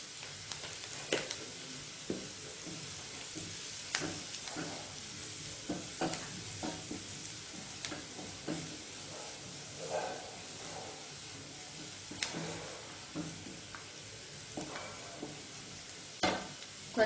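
Turmeric is stirred into softened frying onions for vegetable curry bun filling: quiet sizzling under a steady run of spoon scrapes and taps against the pan.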